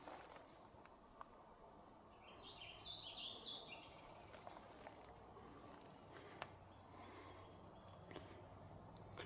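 Birds chirp in a few short bursts in quiet woodland, faint and somewhat distant, over soft rustling and insect hum with no talking.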